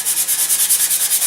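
Steady back-and-forth sanding on a wooden glider wing, a rhythmic scratchy rasp repeating about eight times a second, close and fairly loud with no talking.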